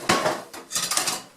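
Pieces of cooked meat being lifted and set onto a second frying pan, with a few clattering knocks of utensil against metal pan in quick bursts, close and fairly loud.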